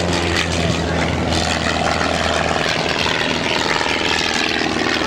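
A Pitts Special aerobatic biplane flies at an air show, its propeller engine droning loud and steady throughout, with a buzzing, slightly pulsing tone and faint commentary beneath.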